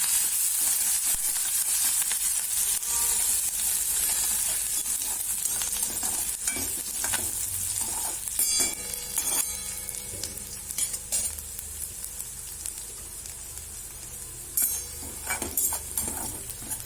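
Cumin, asafoetida, chilies and ginger pieces fry in hot oil in a pan for farali khichdi, giving a steady, loud sizzle throughout, with a spoon stirring and occasionally clinking against the metal.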